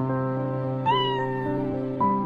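A white cat meows in a clear, drawn-out call, followed by a second shorter meow near the end, close and distinct against a quiet background.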